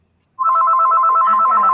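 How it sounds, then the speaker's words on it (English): A mobile phone ringtone starts abruptly after a brief silence and continues as a loud, steady, rapidly pulsing electronic tone, near and alone without speech. "That's my phone."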